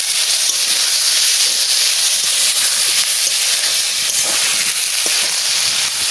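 Pieces of baus (rohu-type) fish cooking in a pan hiss and sizzle loudly as a splash of water is added, a dense, steady steamy crackle that fills the whole stretch without a break.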